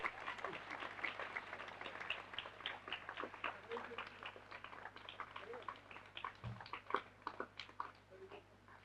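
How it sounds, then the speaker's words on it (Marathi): An audience applauds at a calendar launch ceremony, a faint, steady patter of many hands clapping that continues throughout. "त्यामुळे टाळ्या जरा जोरात वाजू देत"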